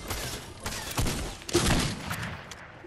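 Shotgun blasts in a shooter video game, with several heavy booming shots spread across a dense, noisy mix of game sounds.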